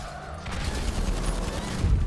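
Rapid gunfire in a video game as shots are aimed at a vehicle's tires, a dense rattling burst of close, loud shots lasting throughout with booming low thuds.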